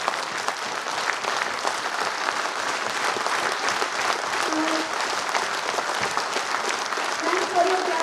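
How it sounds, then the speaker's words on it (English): At a felicitation ceremony, a standing audience applauds in a continuous, dense round of clapping, with a voice briefly heard over it. "Thanks for your clapping."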